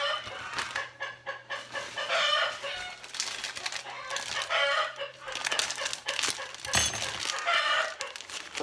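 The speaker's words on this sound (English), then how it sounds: "those chickens are busy there in the background" Chickens cluck and call steadily in the background, with a rooster-like crow rising among them, while someone prepares a bran-based Japanese ferment nearby; the birds are fairly close and busy, and no talk is heard.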